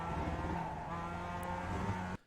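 Mazda Miata engine under full throttle at Okayama in iRacing, a steady droning rev with strong harmonic whine that cuts off abruptly near the end.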